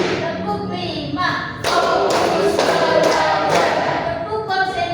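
A school class does a rhythmic clap game, with broadband claps and thuds in group bursts mixed with voices calling out.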